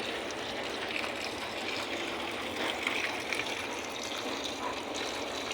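Water running from a long hose at a construction site, a steady rushing flow with a constant hiss and faint splashing, moderately close and with no one speaking.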